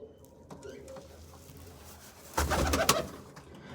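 Pigeons coo softly in a loft, a faint low murmur that swells into a louder burst of cooing and fluttering near the end, with a voice heard faintly in the background.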